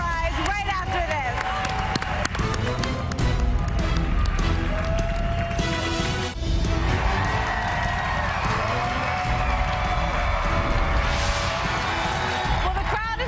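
Television studio audience cheering, clapping and shouting excitedly before a weight-loss competition weigh-in, with loud continuous crowd noise mixed with music and voices throughout.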